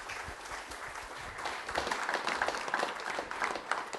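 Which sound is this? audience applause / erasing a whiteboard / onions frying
audience applause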